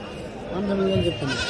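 A single wavering goat bleat rises over the steady murmur of the weekly Tuesday goat market in Kadiri, held for about half a second amid background crowd noise.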